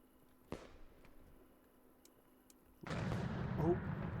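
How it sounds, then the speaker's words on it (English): A cannon firework in the video game Fireworks Mania goes off with a sharp thump, followed later by a heavy, rumbling blast that swells and keeps booming to the end. "Oh, there was a cannon again."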